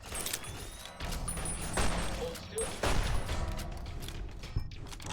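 Gunfire in the video game Fallout: New Vegas, with several loud shots cracking through a busy, noisy background, followed by mechanical clicks and clatter.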